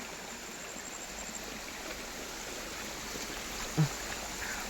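Faint, even hiss of water pouring down Arbi Falls near Manipal, a distant, unbroken wash with no voices over it.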